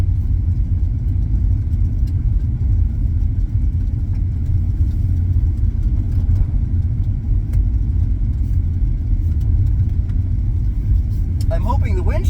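2013 Mazda 3 on winter roads, a steady low engine rumble and road drone heard from inside the cabin, continuous and even throughout.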